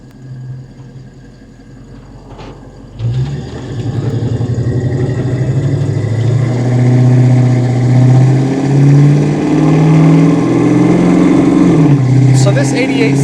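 A 1988 Ford Mustang Saleen convertible engine on a test drive, starting at a low idle, then surging into a loud, steady revving drone with rising and falling pitch as it accelerates.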